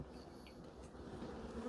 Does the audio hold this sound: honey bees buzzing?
yes